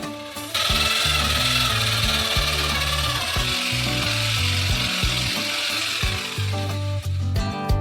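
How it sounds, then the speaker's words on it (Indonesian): A large electric mixer blends ice cream with a loud, continuous motor whir and grinding texture, its low tones shifting throughout. "Dan campurkan ke dalam es krim dengan mixer besar."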